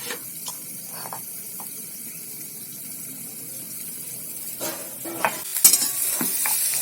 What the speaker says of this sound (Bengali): আমি ফুলকপিটাও ডিম দিয়ে আর বেসন দিয়ে ভেজে নিলাম